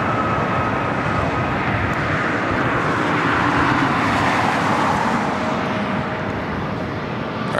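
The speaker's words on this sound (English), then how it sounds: "This is Delta Connection 3762, coming in from San Jose on an E175." Delta Connection Embraer E175 regional jet arriving at LAX from San Jose, heard as a steady, moderately loud jet rumble and whine, swelling slightly toward the middle with faint traffic noise underneath.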